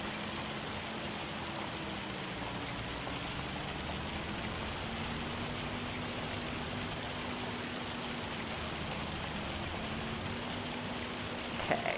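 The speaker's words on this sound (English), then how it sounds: "Realistically, the hail coming down would knock a lot of leaves off." Hail storm in a farming simulator game: a steady, dense hiss of falling ice pellets pattering continuously, with a low engine hum underneath.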